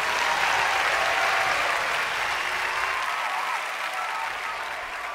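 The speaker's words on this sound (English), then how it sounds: "Let's give them all a round of applause." Audience applause fills a theater before a musical stage premiere, a dense steady clapping that holds loud throughout and eases slightly toward the end, with no talking over it.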